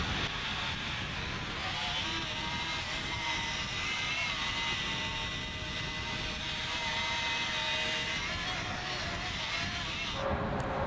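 A rotary polisher buffs a car headlight with a soft white foam pad and Step 1 compound, giving a steady, loud whirring drone that holds evenly throughout and drops off abruptly at the very end.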